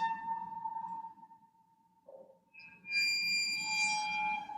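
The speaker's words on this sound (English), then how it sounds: "I'm just rubbing the drumstick along the grooves of the cymbal" A drumstick rubbed along the grooves of a cymbal gives sustained, ringing whistle-like tones that hold, fade, then return as a brighter shimmering cluster of pitches, heard alone without speech.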